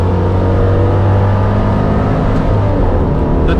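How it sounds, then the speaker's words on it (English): A Citroen 2CV's small engine drones loud and steady from inside the moving car, a constant low hum with road noise and no talking. "Listen to the 2CV engine, everyone."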